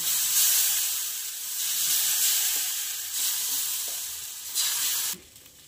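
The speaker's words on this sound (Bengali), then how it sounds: "এবার আমি এই গোলাটা এইভাবে ছিটিয়ে ছিটিয়ে দিতে থাকবো।" Rice batter sizzling as it is sprinkled in repeated bursts onto a hot oiled pan for thin chita roti, a close hissing fry that swells and fades with each splash before cutting off near the end.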